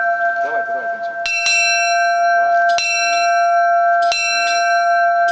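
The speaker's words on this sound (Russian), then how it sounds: "Возможность 12 раз ударить в колокол предоставилась и гостям." A large bell is struck twelve times at a steady pace, each loud clang ringing on with a long resonant hum into the next strike.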